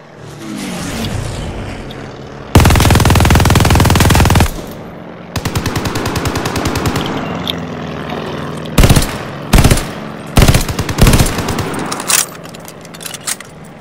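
Sustained minigun machine-gun fire in the video game Vanguard, roaring in several long loud bursts, then broken into shorter stuttering volleys toward the end.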